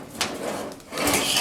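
A vehicle cab door swings open and shuts smoothly after floor welding and grinding nearby, giving a brief soft scrape and a muffled latch over a hissy, close background.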